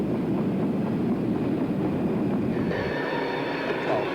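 English Electric diesel locomotive 10201, a 135-ton engine with 3'7" driving wheels, rumbling steadily at Rugby with a continuous rolling drone, joined partway through by a higher whining tone over the mechanical churn.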